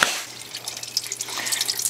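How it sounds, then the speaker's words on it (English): Soapy water draining out of a bucket during rinsing, a close trickling and dripping with scattered splashes over a faint steady hum, no talking. "You drain the soapy water out, and then you replace it with not soapy water."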